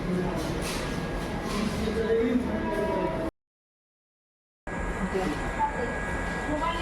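Station ambience with a train standing at the platform: a steady broadband rumble and hum that runs continuously, broken by a short complete silence partway through. Voices murmur faintly in the background.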